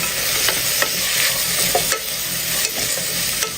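Onions and shallots frying in a pan, a loud, continuous sizzle with regular scraping stirs of a spatula across the bottom and no talking.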